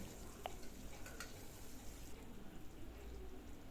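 Chopped onions frying in a pan for a village-style goat head curry, a steady, fairly faint sizzle with light stirring scrapes, no voices.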